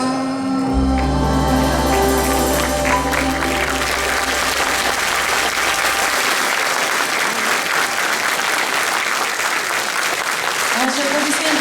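Loud, dense applause from a concert audience at a border guard institute's festive concert, starting over the last sustained note of music and continuing steadily, with a voice rising briefly near the end.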